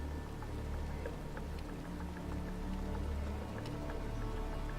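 Rain falls in a motorsport team management game, a steady patter of scattered drops over a constant low hum, with no voices.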